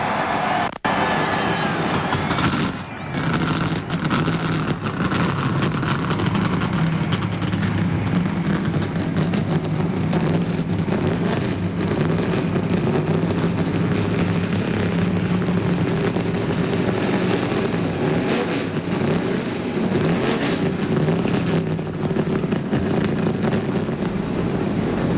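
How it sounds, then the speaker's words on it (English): Multiple NASCAR stock car engines fire up and rumble together at Daytona before the 1997 Busch Clash, a loud, steady low roar sustained throughout with a crowd and wind in the open air. "Gentlemen, start your engine."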